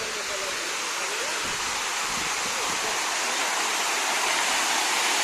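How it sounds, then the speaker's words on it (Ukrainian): Steady rushing of fountain water jets in Kharkiv, a dense continuous hiss close by with a faint low voice briefly underneath. "це просто шум води, потоки, такі гарні потоки струмені."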